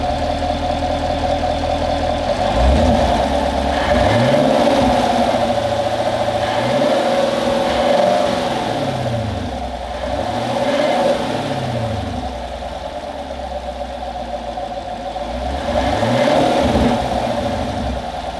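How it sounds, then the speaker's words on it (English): A 2017 Camaro SS V8 with the stock OEM airbox revs loudly in repeated rising and falling sweeps from idle, heard up close with no talking. "let's do an OEM or stock airbox sound test"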